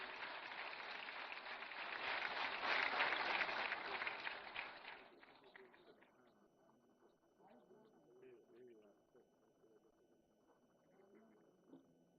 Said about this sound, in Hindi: जोरदार तालियों के प्रणाम निवेदित करते हुए